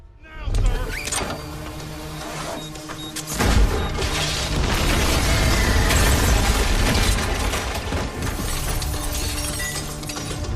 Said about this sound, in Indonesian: Dengan ledakan tersebut,